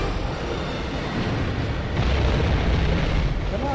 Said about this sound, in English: No matter how many times I hit him with the rocket launcher.